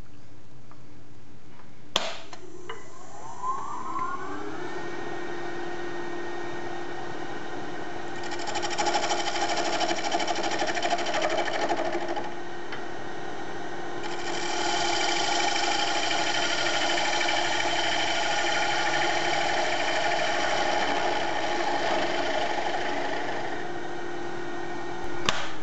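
A wood lathe spins up and turns a small wooden fixture knob, with a steady motor hum rising in pitch and louder stretches of tool cutting against the spinning wood, heard close by with no talking.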